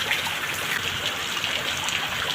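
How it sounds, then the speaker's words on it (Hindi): Rain falling and water running in Karachi, a steady even wash of splashing and trickling with no breaks and no voices. "उसी तरह बारिश शुरू है।"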